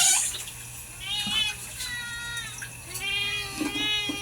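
A cat meows several times in drawn-out, rising and falling cries, fairly close, over a quiet background.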